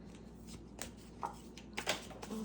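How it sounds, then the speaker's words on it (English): Tarot cards being shuffled by hand during a card reading, a steady run of soft riffling and sliding with a few sharper flicks, close and fairly quiet, with no talking over it. "we will stop shuffling there"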